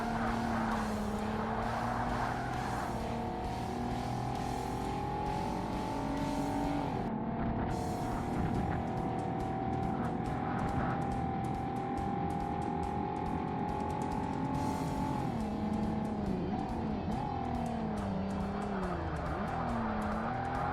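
A car engine in the racing game Forza Motorsport on Xbox (2005) drones loudly and continuously, its pitch rising and falling through gear changes with tire squeal, alone without voices.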